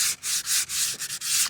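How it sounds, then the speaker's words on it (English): Sandpaper at 100 grit rubbing along the grain of two glued wooden pieces, five or six steady back-and-forth strokes with brief pauses between them, close and loud with no talking. "You're going to sand this surface down, sanding with the grain."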